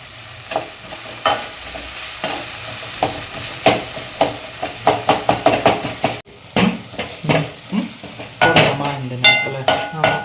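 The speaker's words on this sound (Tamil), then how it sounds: "உப்பு சேர்த்து வதக்கினா சீக்கிரம் வதங்கிடுவாங்க." Onions with salt are sautéed and stirred in a pan for prawn thokku, giving a steady sizzle under repeated sharp scraping and clinking strokes of a spoon against the pan, close and fairly loud with no talking.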